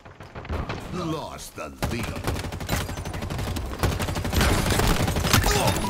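Rapid bursts of automatic gunfire and weapon impacts in the multiplayer game Halo Infinite crackle continuously and loudly, with a player's voice talking over the shooting.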